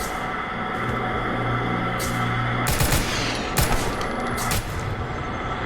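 Rapid gunfire shooting monsters in the horror video game Total Chaos, dense bursts of automatic shots over a loud droning ambient hum, with shorter volleys between heavier sustained fire.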